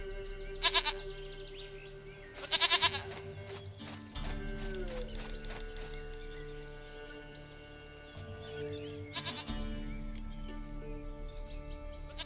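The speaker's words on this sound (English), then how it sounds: "Goat of mine, dearest," A goat in The Witcher 3 video game bleats in several loud, wavering cries over steady game ambience and music, with gaps between calls.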